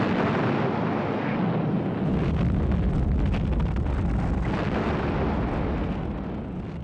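Heavy naval bombardment during the 1945 Marine landing on a Pacific island, heard as a dense, continuous roar of explosions and rumbling blasts, loud and sustained throughout with no distinct pauses.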